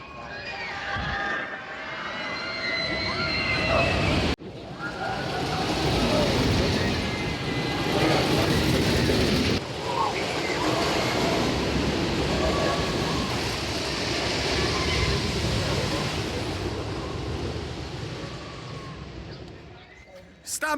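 Stampida, a wooden roller coaster at PortAventura in Salou, Spain, roars and rattles steadily on its track in a loud, continuous ride, with wind noise, abrupt jolts and riders' voices mixed in.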